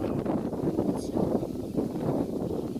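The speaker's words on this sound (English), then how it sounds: "And it's windy, so." Blustery wind buffets the microphone outdoors on a trail by a river with a constant low rumble, steady and fairly loud, with no voices.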